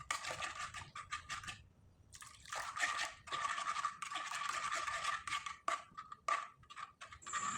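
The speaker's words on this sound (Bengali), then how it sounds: "এবার এখানে কিছুটা পরিমাণে জল ব্যবহার করব, আর খুব ভালোভাবে মিশিয়ে নেব" Blended rice paste, still partly whole grains, is stirred with added water, giving close wet scraping and sloshing in uneven bursts with short pauses.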